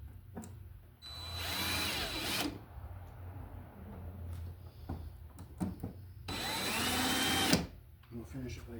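A power drill drives screws into a 4-inch square metal electrical box extension over an existing single-gang outlet, with two sustained whirring bursts close by and talk in between.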